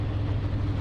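A motorcycle engine drones steadily while riding, a low, even hum with continuous road and wind noise, close and constant, with no talking.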